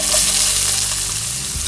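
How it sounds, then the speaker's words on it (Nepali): Chopped onion sizzling in hot oil in a pan with dried chilies, for an asparagus curry; a loud, close, continuous frying hiss with faint stirring underneath. "प्याजलाई चाहिँ राम्रोसँग यसमा अलिकति हल्का ब्राउन हुने गरी फ्राई गरौँ"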